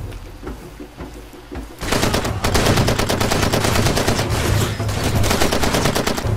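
Enemy gunfire in the Far Cry 2 video game breaks out after a quieter lead-in, rapid machine-gun bursts and shots rattling loudly and continuously with no talk.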